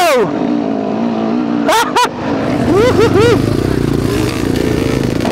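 A motorcycle engine revs hard several times, its pitch sweeping up and down in quick bursts, close by and loud over a steady engine rumble.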